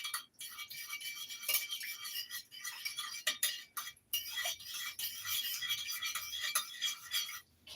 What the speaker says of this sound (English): I'm just going to stir it up some to make it brothy